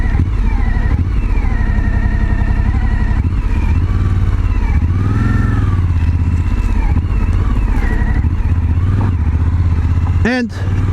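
A 2020 Suzuki V-Strom 1050 motorcycle runs steadily on a ride along light off-road tracks, its engine hum loud and continuous with shifting pitch as it speeds up and slows, plus wind noise and a brief sharp sweep near the end.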